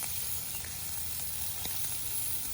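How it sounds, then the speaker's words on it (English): Mushrooms sauteing in butter in a pan over a Trangia alcohol stove, giving a steady, soft sizzle with a constant low hiss throughout and no talking. "Everything is sauteing up nicely."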